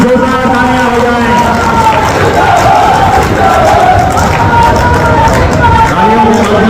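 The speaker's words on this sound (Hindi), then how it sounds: "एक बार आप सभी की जोरदार तालियां हो जाए।" A crowd claps loudly at a farmers' gathering addressed by a chief minister. The clapping is a dense, continuous wash of noise, with shouting voices rising above it throughout.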